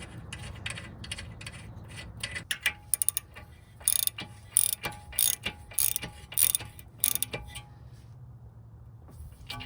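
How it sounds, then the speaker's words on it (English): A castle nut is tightened onto a tie rod end on a 2009 Toyota RAV4 with a ratchet: a run of quick metallic clicks and louder ratcheting bursts, close and unaccompanied, trailing off near the end. "stick that through the hole and then tighten it on with your castle nut"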